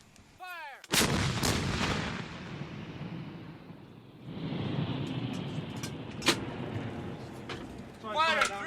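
A 120mm cannon fires once with a sudden, close, heavy boom that rolls into a long, rumbling decay; a second sharp report follows, and crew voices call out before and after.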